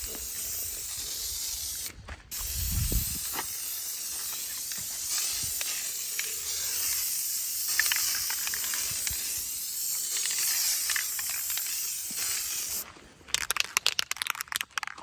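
Spray paint hisses steadily onto the bumpers of a 1987 Chevrolet C10 truck, sputtering unevenly, for most of the clip, briefly interrupted, with crackly clicks near the end; no voices.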